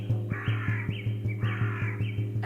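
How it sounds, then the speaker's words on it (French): A crow gives two drawn-out caws over a steady, evenly pulsing meditation backdrop with a low droning tone. "Un corbeau, dissimulé dans les herbes hautes, s'envole et vous invite à le suivre."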